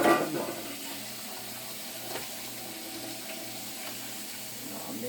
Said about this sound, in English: Put some dishwater in there